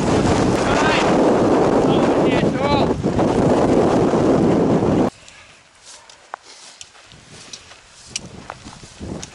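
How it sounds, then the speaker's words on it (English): Fierce wind batters the microphone on a Pacific Crest Trail hiking path, a loud continuous roar that cuts off abruptly after five seconds, leaving quieter gusts and faint sounds. "The wind is absolutely fierce today."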